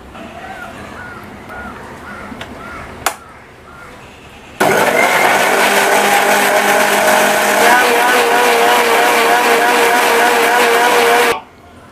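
A kitchen mixer blends mango and lemon with sugar and a little water. After a quiet start with one sharp click, its loud, steady motor whine cuts in abruptly, runs for about seven seconds, then stops dead.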